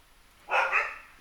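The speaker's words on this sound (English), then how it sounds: "Oh, holy dogs." A dog gives one loud, close bark that stands out clearly against a quiet background.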